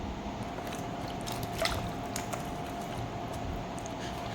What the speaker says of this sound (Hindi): भेंडी ताकू भल भाव रे धोई देबा तापर कट करबा